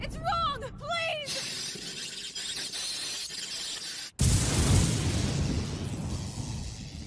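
Cartoon explosion effect from an animated action series, a sudden loud blast that cuts in sharply after a stretch of tense dialogue and then rumbles on with a broad, sustained roar of debris.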